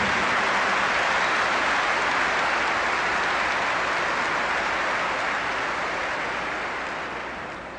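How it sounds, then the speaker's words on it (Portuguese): Church congregation clapping, a dense continuous roar of many hands that holds steady and then gradually fades away toward the end. "Vamos aplaudir o Senhor por isto."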